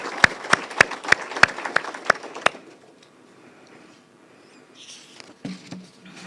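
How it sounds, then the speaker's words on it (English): Audience clapping at a Kenyan university event: a handful of sharp, evenly spaced claps ring out close and loud, then stop, leaving a quiet room with faint shuffling and a few soft knocks. "We are all going to appreciate you with a clap."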